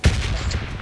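A short burst of gunfire in the mobile battle game PUBG Mobile Lite, one sharp shot followed by a brief rattling tail, close and loud, lasting under a second.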